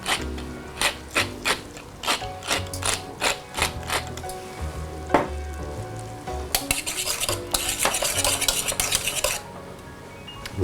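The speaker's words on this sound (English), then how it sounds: "Fresh cracked black pepper." A pepper mill grinds fresh black pepper into gravy with a run of close, rhythmic ratcheting cranks, followed by a denser, busier stretch of grinding clatter.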